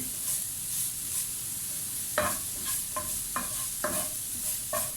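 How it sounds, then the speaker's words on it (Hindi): A bread and coconut mixture roasts in a pan with a soft sizzle, broken by several distinct scraping stirs close by, no voices. "और इसको थोड़ा सा हम भूनेंगे"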